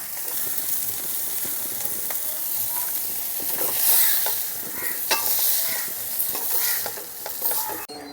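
Giant river prawns (golda chingri) fry in a pan with a loud, steady sizzle and crackle, broken by a few sharp spatula clinks and scrapes, with no talking.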